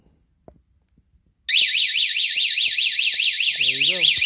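An aftermarket alarm on a Honda Ruckus scooter is set off by tilting after a few quiet knocks. It gives a loud, continuous warbling siren, and a brief voice is heard under it near the end.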